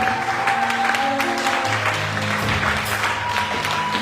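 A church congregation claps together in a sustained, dense burst of applause that stays loud and even throughout, with a faint tonal hum underneath.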